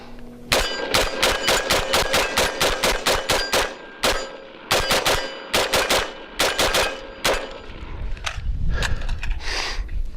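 Palmetto State Armory 10.5-inch AR pistol with an SBA-3 brace and a flash can, fired in rapid strings of sharp, loud, ringing shots with short pauses between bursts, close up.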